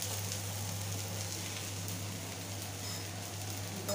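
Thalipeeth flatbread made with moong and matki sizzles softly in oil on a pan after being flipped, a faint, even crackle under a low steady hum, close by and without talk.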